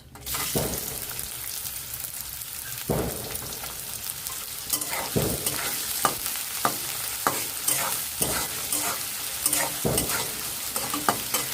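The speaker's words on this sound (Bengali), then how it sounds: "এখন দিয়ে দিচ্ছি কেটে রাখা পেঁয়াজ" Chopped onion hitting hot oil for chicken bhuna khichuri, a steady loud sizzle of frying with repeated stirring scrapes and clinks breaking through at irregular intervals.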